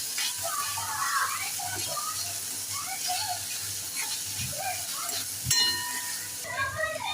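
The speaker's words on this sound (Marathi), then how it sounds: "आपण बारीक चिरलेला टोमॅटो घेऊ तो सुद्धा छान परतून घेऊया" Finely chopped tomato and onion sizzle steadily in a pan while being sautéed for a jowar flour upma, a continuous soft frying hiss with faint stirring noises.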